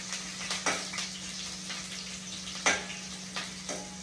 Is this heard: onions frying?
yes